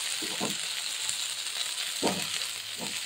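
Radish greens and vegetables fry on a low gas flame, giving a steady soft sizzle and hiss throughout, with a few brief stirring scrapes over it.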